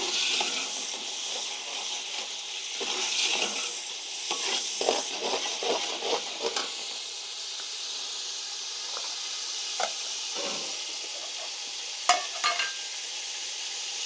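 Matar pulao rice being fried with spices in a pot over a flame, a steady soft sizzle with scattered clinks and scrapes of stirring, fairly close and alone without talk.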